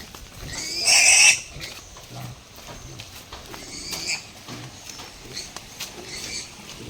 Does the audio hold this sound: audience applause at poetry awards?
no